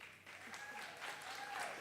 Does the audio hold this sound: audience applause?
yes